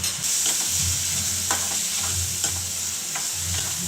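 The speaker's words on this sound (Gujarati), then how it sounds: "આવી રીતે આપણે તેલમાં જ મસાલો કરી દઈશું" Ground spices, coriander powder, chili powder and garam masala, sizzle in hot oil for a paneer sabji as a spoon stirs them, with a steady crackling fry and repeated scraping strokes close up.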